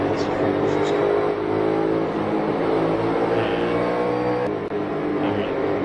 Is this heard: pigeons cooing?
no